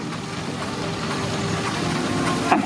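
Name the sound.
Foster traction engine passing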